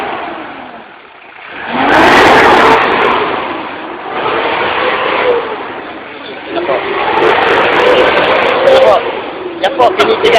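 A car engine fires up and revs in loud, swelling surges, dropping back between pushes on the throttle. The engine is close and dominant, with people talking faintly nearby.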